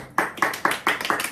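A few people clap together for a girl who placed third in her second-grade class on a mental skills app, about five distinct, fairly close claps at a steady rhythm.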